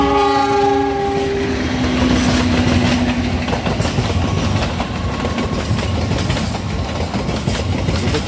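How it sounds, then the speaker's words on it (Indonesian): The Taksaka Tambahan passenger train with a panoramic car rumbles past close by, a loud steady roar with a long horn blast at the start, continuing throughout. "Ini dia keretanya guys."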